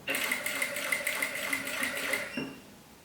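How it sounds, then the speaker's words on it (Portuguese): Sewing machine running a straight seam on a homemade insulated bag, a close rapid rhythmic whir of stitches for about two seconds before stopping abruptly. "E agora eu vou fazer uma costura reta."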